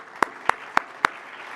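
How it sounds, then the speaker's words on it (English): Four sharp, evenly spaced claps ring out at a steady slow beat from an audience at a Caribbean defense and security conference panel. The claps stand alone against a quiet room with no talking. "One more round of applause for this great panel."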